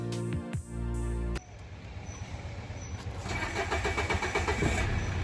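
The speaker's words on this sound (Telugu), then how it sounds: "నా కార్ స్టార్ట్ చేసినప్పుడు కాస్త టైం తీసుకుంటుంది. ఇంకా ఇంజిన్ నాయిస్ అబ్జర్వ్ చేయండి" A diesel car engine with injector trouble cranks slowly in a couple of labored bursts, then catches and settles into a loud, steady, slightly rough idle close by.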